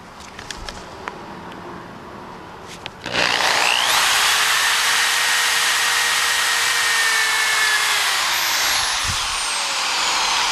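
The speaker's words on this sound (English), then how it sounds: "Go around, drill pilot holes, like so." Power drill with a 5/64 bit boring pilot holes into oiled rivets on a Saturn car sunroof, a close continuous high whirring grind that starts abruptly after a few quiet seconds of handling clicks and holds steady, with no talking.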